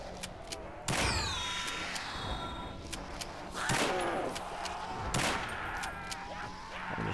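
Gunfire in a custom zombies video game on a map called Forts: several sharp bursts of shots ring out at intervals, with steady game background noise between them and no talk.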